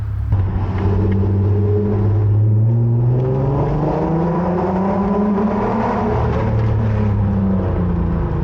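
A car engine revs up and down in a loud, steady rumble, pitch rising and falling through several swells, close by with no talking.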